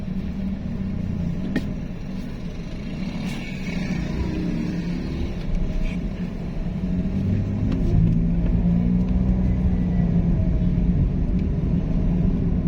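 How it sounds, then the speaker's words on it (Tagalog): Busy road traffic in Angeles City, Pampanga, on a hot day: a continuous low rumble of passing cars and engines, fairly loud and steady, with occasional swells as vehicles accelerate nearby. "Dami sasakyan dito."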